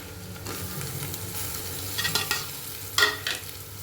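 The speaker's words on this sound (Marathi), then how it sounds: "आता ह्याच्यामध्ये आपण टोमॅटो घालूया" Tomatoes stirred into a hot pan of ginger-garlic paste for pav bhaji, giving a soft sizzle with scraping spoon strokes and a few sharper stirring bursts.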